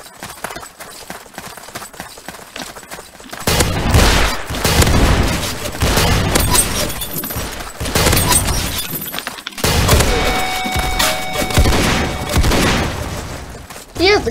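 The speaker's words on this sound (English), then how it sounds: "He has a good shotgun." A shotgun firing in the Roblox game Ace of Spadez, heavy blasts and clattering game action that grow loud and dense midway, with brief drops between volleys.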